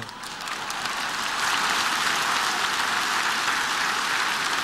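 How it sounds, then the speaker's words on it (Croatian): Audience at a town evening event in Benkovac clapping, applause swelling after the first second into a dense, steady roar. "Ovo je bio pljesak za obojicu, zar ne?"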